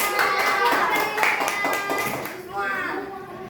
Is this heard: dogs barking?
no